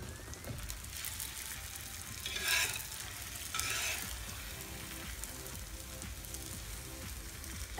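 A flipped egg with thankuni leaves frying in a pan, soft steady sizzling with a couple of brief louder bursts as it is turned, no voices.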